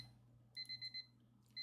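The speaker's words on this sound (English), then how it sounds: "Stupid alarm." A video game alarm clock rings in a quick run of five bright electronic beeps, a pause, then a sixth beep starting, clear over a low steady hum, with no voices.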